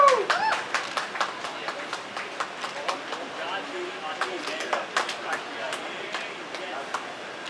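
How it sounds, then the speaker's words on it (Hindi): Audience clapping at a song launch event comes as a run of sharp, irregular claps. It starts busy and thins to scattered claps, with a voice speaking over the start. "जोरदार ताली हो जाए."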